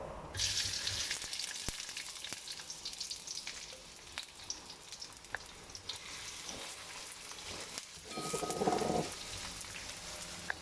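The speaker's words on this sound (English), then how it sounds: "When the oil is hot, we add in 2 sliced onions." Two sliced onions frying in hot oil, a soft continuous sizzle with occasional utensil taps and a louder burst of crackling as they are stirred near the end.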